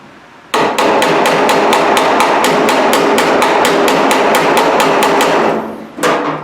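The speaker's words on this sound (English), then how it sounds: "Smacking off dolly from behind." A hammer beats out a steel bonnet panel on a Triumph Spitfire, striking off a dolly held behind, in a rapid, even run of about twenty loud, close metallic blows, with one more strike after a short pause, without speech.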